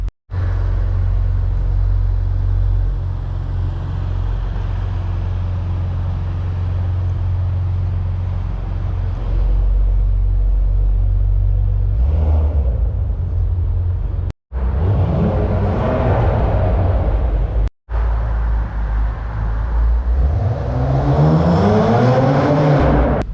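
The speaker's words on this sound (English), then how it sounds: "Every once in a while, the active exhaust will produce this just raw, really low bass, almost like a subwoofer's hitting a really low note" A 2017 Porsche Macan GTS with its active exhaust gives a deep, loud rumbling drone close by, with a brief break near the end. Rising revs and whooshing passes follow in the final seconds, and there is no talking.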